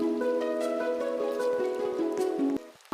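Rain falling in a video game weather shop, a steady close patter of drops with faint tonal music underneath, ending abruptly.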